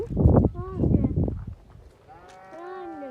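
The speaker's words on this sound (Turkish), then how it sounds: "Gel biraz daha bakalım koyunlara." A voice talks briefly at first on a farm, then a sheep lets out a drawn-out, wavering bleat close by.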